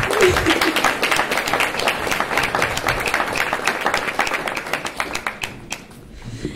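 Forum audience clapping as a political candidate comes up, a crowd of hands giving brisk, fairly loud applause that thins and tapers off near the end.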